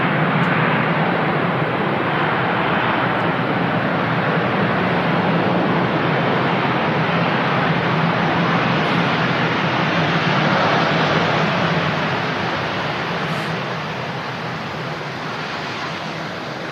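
Singapore Airlines Airbus A350 jet rolling along a rapid exit taxiway at Manchester Airport, a loud, steady broadband engine roar heard from a distance that eases off gradually toward the end.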